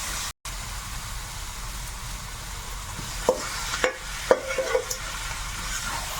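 Chicken pieces going into hot spices and green chilli in a wok, a steady sizzle with a few sharp clatters and scrapes of stirring partway through.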